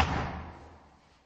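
A single heavy slam against an apartment door during a police raid, loud and close, a low thud that decays over about a second with no talk over it.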